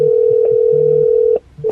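A phone call tone played through Apple CarPlay in a car: a loud, steady electronic tone holds for over a second, breaks off briefly, then resumes.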